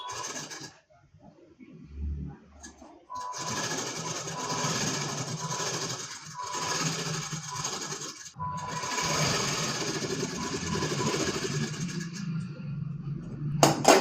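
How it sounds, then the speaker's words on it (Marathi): A sewing machine runs a long, steady stitching pass along a blouse's shoulder to attach the sleeve on a 28-inch, four-tuck blouse. The whirring continues for several seconds after a brief start, close and even. "शोल्डरपासून अशा पद्धतीने ही जी टिक केलेली आहे तर इथं आपल्याला अशा पद्धतीने ठेवून घ्यायचं आहे आणि इथून शिलाई करायची"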